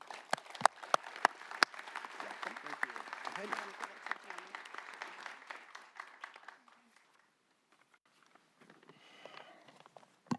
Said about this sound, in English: Please join me in a round of applause for Carl Karcher.